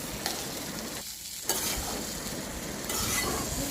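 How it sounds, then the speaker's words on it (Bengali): Polao (pilaf) cooking in a pot on a gas stove, giving a steady broadband sizzle with stirring scrapes and a brief quieter dip partway through. "এই জন্য তাই গ্যাসে রান্না হচ্ছে পোলাওটা"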